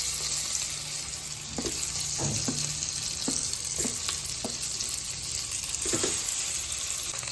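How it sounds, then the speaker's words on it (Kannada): Stuffed brinjals laid one by one into hot oil give a steady, loud sizzle, with a few distinct pops and splashes as each piece goes in and settles. "ಈಗ ನಾವು ತುಂಬಿಟ್ಕೊಂಡಿರೋ ಬದನೆಕಾಯಿನ ಒಂದೊಂದೇ ಇದ್ರೊಳಗೆ ಹಾಕೋಣ."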